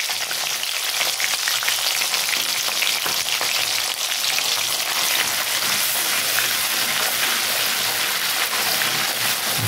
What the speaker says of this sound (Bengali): জাস্ট একটু কষিয়ে নেব